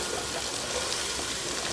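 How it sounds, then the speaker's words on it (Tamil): Curry leaves lightly sautéing in hot oil for masala bonda, a steady, close sizzling hiss with no talk. "இப்போ இதை கொஞ்சமாக வதக்கிட்டு ரொம்ப கருகை விடக்கூடாது, லைட்டாக வதக்கணும்."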